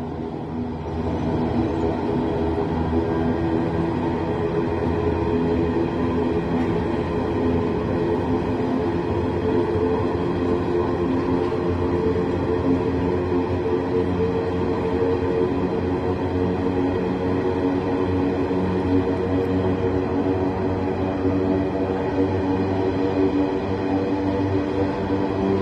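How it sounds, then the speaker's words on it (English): A long empty coal freight train of 82 wagons rumbles past steadily at close range over a railway bridge at Aberdeen, a continuous loud rolling clatter of wagons with no voices over it. "this train has 82 wagons"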